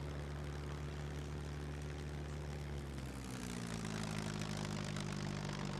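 Propeller airplane engine in the video game SCUM droning steadily, its pitch rising partway through as the aircraft gains speed; loud and continuous, with no voices.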